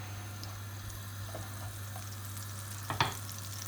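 Thin chips deep frying in hot oil give a faint, steady sizzle and bubbling hiss, with a soft knock or stir near the end.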